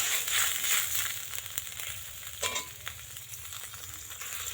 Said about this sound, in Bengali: জলটা খুব ভালো করে ফুটছে